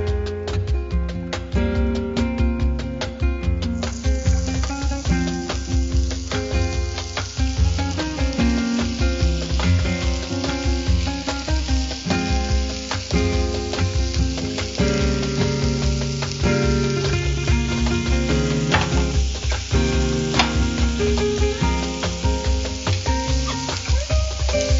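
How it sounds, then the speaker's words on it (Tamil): Chicken tikka pieces fry in hot oil with a constant, close, crackling sizzle that persists for the full stretch with no voices over it. "எண்ணெய் சூடாயிருச்சு, நம்ம சிக்கன் பீசஸ் வச்சிடலாம்."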